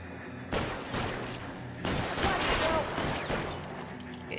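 Gunfire in the L.A. Noire video game, two sharp bursts of shots, the second longer and denser, loud and close, with faint speech underneath.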